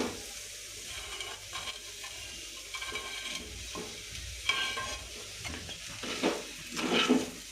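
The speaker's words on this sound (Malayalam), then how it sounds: "ഇനി നമുക്കിതിലേക്ക് വറുത്ത് വെച്ച ചെമ്മീൻ ഇട്ട് കൊടുക്കാം" Fried prawns go into a pan of masala for a prawn roast and are stirred steadily, with continuous sizzling and frying and the scrape of the spoon against the pan, loud and close, with no talking.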